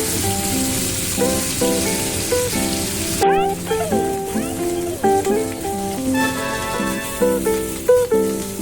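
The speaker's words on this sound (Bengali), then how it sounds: "এখন আমি গরম গরম ইলিশ মাছ আর বেগুনটা ভাজছি" Hilsa fish and eggplant sizzle and crackle steadily in hot oil, a dense frying hiss running throughout under a bed of background music.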